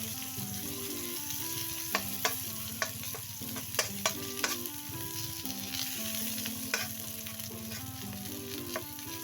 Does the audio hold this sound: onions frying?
yes